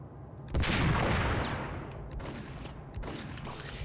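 Gunfire in the video game Max Payne: one loud close shot followed by a fading echoing tail and a few lighter shots, with no talk.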